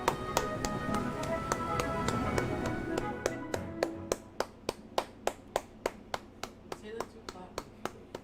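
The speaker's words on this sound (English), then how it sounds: "That's me clapping, guys." A person claps by hand: after a busy, voiced opening, about fifteen crisp, evenly spaced claps ring out close and alone.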